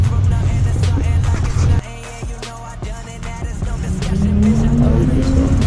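Ferrari 599 GTB V12 revving loudly on a city avenue, a sustained, roaring engine note that dips briefly and then climbs again in pitch as it accelerates, close and dominant throughout.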